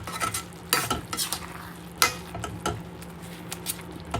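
Masala sautéing in oil in a pan, with a steady sizzle broken by repeated spoon scrapes and stirring clatter close by.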